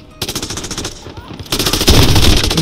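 Rapid automatic gunfire rattles in Modern Warfare, a loud fast burst of repeated shots that briefly pauses, then resumes even louder and closer.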